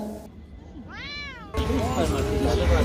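A cat at a restaurant in Istanbul gives a single clear meow, then busy restaurant chatter and clatter take over as people talk nearby.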